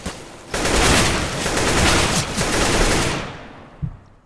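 Sustained automatic gunfire from a weapon in the video game CS:GO, a loud rapid fusillade lasting about three seconds, then fading, with one final sharp shot.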